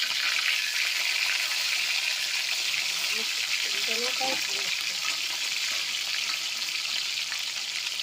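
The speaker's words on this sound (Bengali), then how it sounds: "ভোলা মাছটা ভাজা করছিল, 1 পিঠ ভাজা হয়ে গেছে" Steady, loud sizzling of bhola fish frying in hot oil, continuous throughout, with a brief faint voice partway through.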